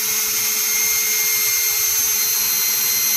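Lower triple clamp bore of a BMW /5 motorcycle being lapped with lapping compound: a steady, loud whirring grind that runs unbroken from start to finish, with no voices.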